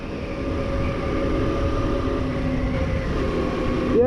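A Honda Super Cub NBC110 motorcycle engine hums steadily while riding in fourth gear, a constant droning tone under broad road and wind rush that swells slightly at the end.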